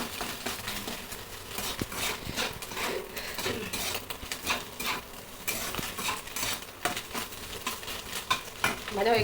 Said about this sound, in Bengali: এখন নাড়াচ্ছে।